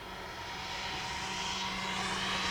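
An RC Yak-11 model plane's engine runs at full throttle, a steady, rising whine heard from a distance without any talk.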